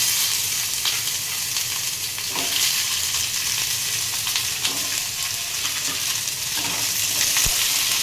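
A handful of onions fries in oil in a pan on the stove with a loud, constant sizzle close by, broken by occasional stirring scrapes and taps. No talking.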